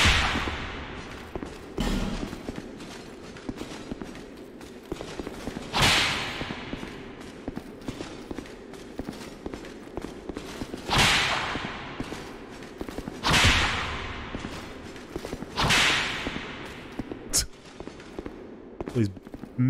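Whip attacks in Dark Souls 2, a video game: several sharp cracking lashes arrive at irregular intervals, each a loud snap with a brief swish, over a steady bed of game ambience.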